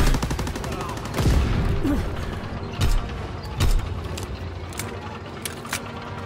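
Gunfire from a World War II shooter battle in Call of Duty WW2 during a timed objective match, with a few loud bursts standing out over a steady din of game noise and mechanical clatter.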